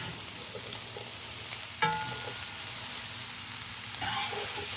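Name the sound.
stirring chorizo and chicken jambalaya in a pot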